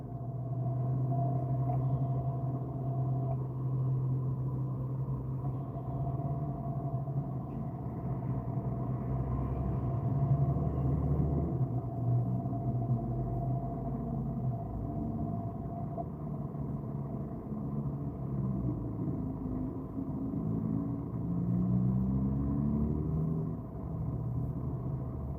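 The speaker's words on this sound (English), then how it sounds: "it's a lot of traffic out here" Road traffic heard from inside a car, a steady low engine and tyre rumble with a faint hum, continuous and even, no talk.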